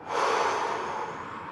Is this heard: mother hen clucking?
no